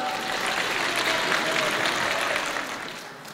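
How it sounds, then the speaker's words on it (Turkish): Applause from a concert audience at an Istanbul concert, a dense steady patter of many hands clapping that holds evenly, then eases off near the end; a faint voice or whistle-like tone runs underneath. "Gelin özümüz özümüzü bir gürültülü alkışlayak."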